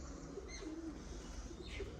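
Pigeons kept for flying coo softly in short, low throaty calls against a faint steady background hum, with a light chirp near the end; no voices.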